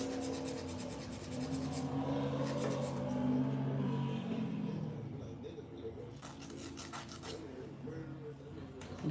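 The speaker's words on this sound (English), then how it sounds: "I am using an 80/80 grit file." An 80/80 grit file rasps across acrylic nails on a practice hand in bursts of quick scratchy strokes, close and fairly quiet, with faint talking mixed in.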